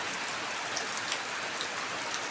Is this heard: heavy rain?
yes